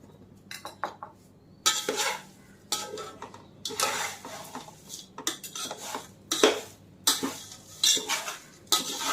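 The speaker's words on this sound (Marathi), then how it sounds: "चांगलं हलवायचं आहे" Spoon scraping and clinking against a pan while stirring thin poha chivda with salt, a quick irregular series of close metallic scrapes and clanks with no talk.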